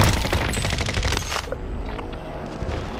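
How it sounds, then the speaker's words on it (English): Loud, rapid automatic gunfire from a shooter video game, sustained bursts of weapon fire that thin out near the end, with no voices. "Oh, good shot, Nicky."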